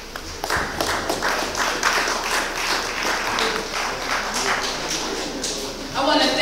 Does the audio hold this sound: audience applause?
yes